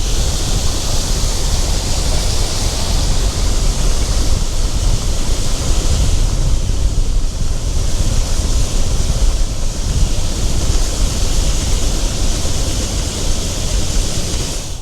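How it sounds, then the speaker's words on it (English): Steady, loud breezy wind gusts outdoors on a farm during corn harvest, a continuous broadband rush with slow swells and no talking. "Getting breezy out here."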